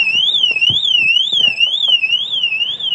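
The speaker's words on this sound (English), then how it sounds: "Another alarm, it's a supplementary alarm." A motorcycle's electronic alarm wails continuously, its pitch sweeping up and down in a steady repeating cycle, loud and close, with faint handling noises underneath.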